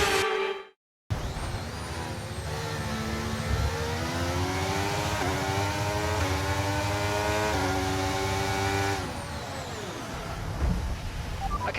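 Formula 1 race car engines in a Japanese Grand Prix racing video game, a loud continuous high-pitched whine rising and falling through gear changes, with a brief sudden cutout near the start.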